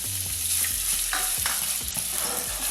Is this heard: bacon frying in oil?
yes